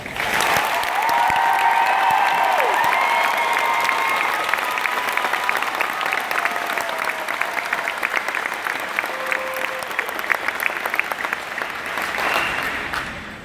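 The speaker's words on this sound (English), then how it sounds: "How about a round of applause for your new Marines?" Sustained applause from a large crowd of families at a Marine Corps recruit graduation on Parris Island, loud and dense throughout, with scattered cheers and whistles rising above the clapping before it fades near the end.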